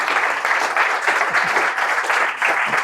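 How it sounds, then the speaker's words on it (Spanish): An audience at a storytelling event breaks into a short burst of lively, fairly close applause, steady throughout. "vamos a recibir a nuestro amigo Jesús Callejo con un aplauso"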